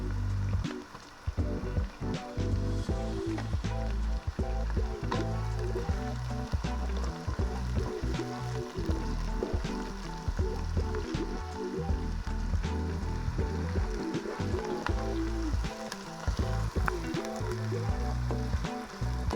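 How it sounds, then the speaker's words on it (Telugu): Onions frying in a pan with a little salt for chicken fry-piece biryani, a steady dense sizzle with scattered pops and scraping of stirring running throughout, close and fairly loud with no talking. "మనము ఉల్లిపాయలు ఎర్రగా వచ్చేదాకా వేపుకోవాలి."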